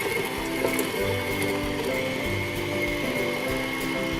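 An electric mixer creams half a cup of butter, whirring steadily and loudly for several seconds with a gritty, ratcheting texture and a faint, uneven rhythm as the beaters work through the butter.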